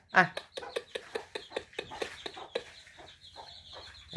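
Chickens clucking close by in a rural yard, a quick run of sharp, evenly spaced clucks that slows and thins out, while a person talks over and between them.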